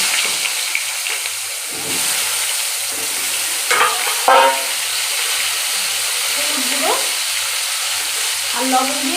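Cut eggplant pieces frying in hot oil, a loud continuous close sizzle with occasional stirring scrapes and bursts of spatter throughout.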